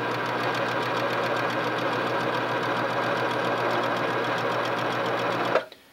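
A sewing machine runs in one steady, loud, rapid whirring burst for nearly six seconds while backstitching to lock the thread, then stops abruptly.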